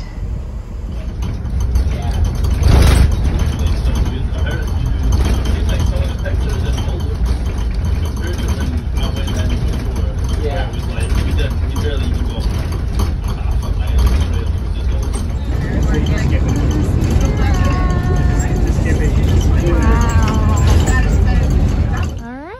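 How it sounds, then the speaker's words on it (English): An Eastern Sierra Transit bus heading to Bridgeport, heard from seats at the front, gives a steady engine drone with rattling, clicking mechanical noises throughout, and people talk over it. "Got our seats right up front for our bus to Bridgeport on Eastern Sierra Transit."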